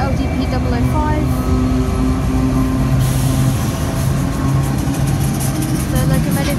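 Two freight trains with several locomotives rumble past, a steady loud low drone of diesel engines and rolling wagons filling the whole stretch without a break.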